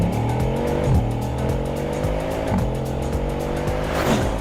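A Bugatti accelerates hard, its engine a loud, continuous droning roar that surges and eases through several shifts in pitch, heard without talk.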